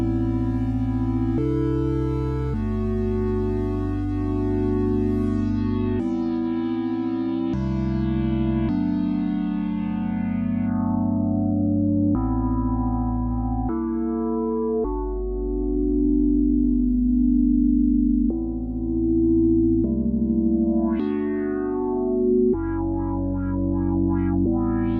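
A Universal Audio PolyMax synth patch with boosted decay and sustain plays a sequence of sustained, tonal chords and notes with gliding high tones, continuous and fairly loud for about twenty-five seconds with no talking.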